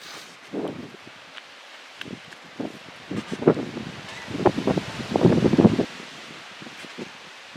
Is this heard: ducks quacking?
no